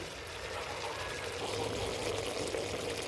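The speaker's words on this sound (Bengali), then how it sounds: "এখন আমি এর মধ্যে পরিমাণ মতো পানি দিয়ে দিচ্ছি।" Water is poured in a soft, continuous stream into a pot of bottle gourd, heard faintly and close.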